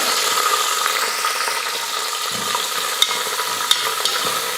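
Grated carrot and green peas sautéing in oil for a pongal, producing a continuous close sizzle with stirring scrapes and a couple of sharp clicks of a utensil against the pan.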